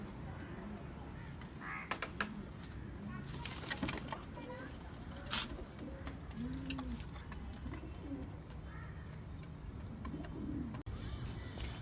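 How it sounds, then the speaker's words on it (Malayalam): Soft pigeon coos rise now and then over a bed of other bird calls, with a person talking quietly nearby. "ഇതൊരു സുറുമേനയുള്ള ഒരു ഫീമെയിൽ പ്രാവാണ് ഇതൊരു മെയിൽ പ്രാവ്"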